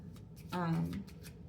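A deck of Black History cards riffled briefly in the hands, a short, close flutter of paper under a quiet background.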